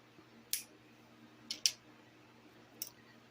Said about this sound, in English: Now I'm going to cut off the rest of my